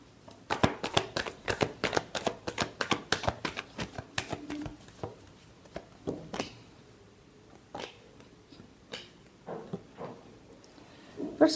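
Tarot cards being shuffled by hand, a rapid run of crisp riffling clicks that thins into scattered taps, close and quiet, with no talk over them.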